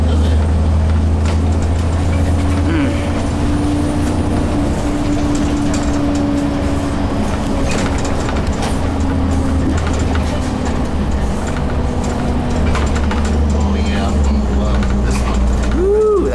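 Steady loud drone of a Gillig transit bus engine heard from inside the cabin, with constant low rumble, rattles and clunks over the road, and faint voices underneath.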